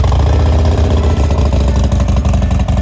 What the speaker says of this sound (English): I was just really wanting to hear how this Bassani exhaust is going to sound